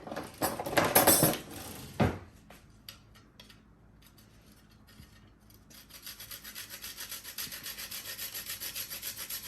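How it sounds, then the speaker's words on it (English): Whole nutmeg scraped on a grater over a bowl of milk, water, sugar and salt gives a loud burst of gritty rasping, then after a pause a steady, quieter run of rhythmic scraping strokes, with no talking. "I'm going to go ahead and grate some nutmeg in here."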